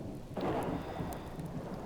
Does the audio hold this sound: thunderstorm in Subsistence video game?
yes